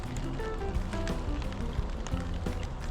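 Rain falls steadily on an Intex Ultra XTR 32 by 16 foot above-ground pool as it fills, making a dense, continuous patter and splash close by.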